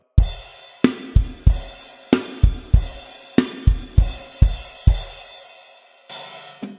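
A rock drum beat, played on a kit with bass drum and crash cymbals: a series of heavy, close kick-and-crash hits in a syncopated pattern, each ringing into a long shimmering decay, with no talking.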